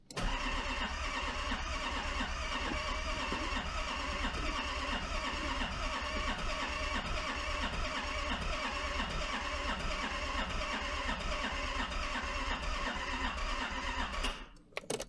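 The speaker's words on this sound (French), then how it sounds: "Essai numéro 2, normalement on devrait la démarrer là du coup." An old car with glow-plug preheating cranks on a start attempt: a loud, steady rhythmic starter churn for about fourteen seconds that never catches, then cuts off abruptly.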